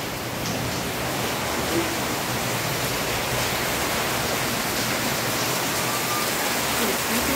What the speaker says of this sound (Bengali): এদিকে আবার জল পড়ছে মনে হয়